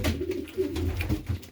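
Breeding racing pigeons in a loft coo in soft, low, rolling bursts, several throaty calls close together and close by, with no talk over them.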